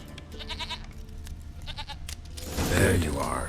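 A goat bleats several times in The Witcher 3 video game, short wavering cries heard mid-range and moderately close, alongside game ambience and a swelling burst of noise near the end; a voice speaks nearby.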